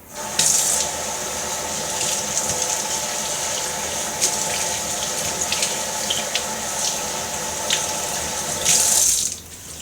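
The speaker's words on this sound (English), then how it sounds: "clean the cilantro using some cold water" Steady running cold tap water splashes continuously for several seconds over cilantro being rinsed, close up, with a brief louder gush near the end before it cuts off.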